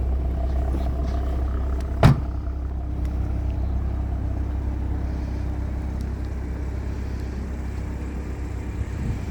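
A new BMW M235i fitted with an M Exhaust and diffuser rumbles at a steady idle, a deep, even low drone heard close up with one brief click partway through.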